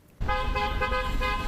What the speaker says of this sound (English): Horns honking.